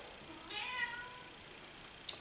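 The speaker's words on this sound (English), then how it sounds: "my studio cat" A cat meows faintly in the background of an art studio, a short, soft call followed by a brief second sound, with no talking.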